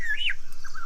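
A lyrebird, a mimic of surrounding sounds, gives a single clear rising-and-falling whistled note followed by a softer shorter phrase, brief and fairly close against a low steady hum.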